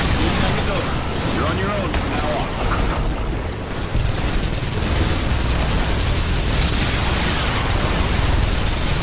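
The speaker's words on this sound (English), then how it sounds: "Machine gun fire." Dense, sustained machine gun fire and rumbling blasts from the Earth Defense Force 5 video game, loud and continuous without a break, with a voice talking over the barrage.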